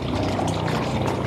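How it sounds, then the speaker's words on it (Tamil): Water gushes and churns inside a borewell just after compressor cleaning, a steady, dense rushing and splashing noise, close and continuous throughout. "தண்ணியோட சவுண்டு கேட்குதுங்களா?"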